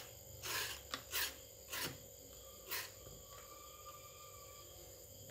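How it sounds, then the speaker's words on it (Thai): A hard green mango is scraped into shreds for Thai mango salad, with four or five separate raspy strokes spaced about a second apart, close but fairly quiet against a faint electronic hum. "เดี๋ยวมาขูดมะม่วงก่อนเลยนะครับ"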